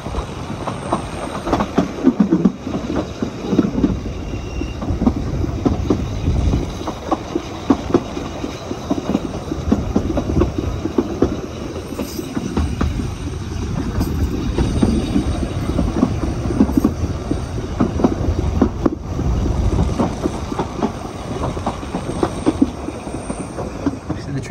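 A Lynton and Barnstaple narrow gauge railway train runs along with steady clickety-clack of wheels and carriage rumble, occasional wheel squeal and hiss, close and continuous with no talk.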